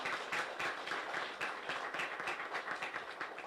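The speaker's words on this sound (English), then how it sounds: "Can we give her another round of applause?" An audience applauds after a song at a grant-distribution ceremony, a dense, steady patter of many hands clapping at moderate distance, fairly soft and without speech.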